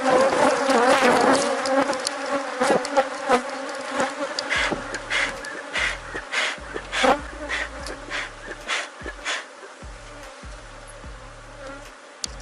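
Honey bees buzz thickly around hive frames during an open-hive inspection, a steady close swarm drone with wingbeat flutters rising and falling throughout, no talk over it.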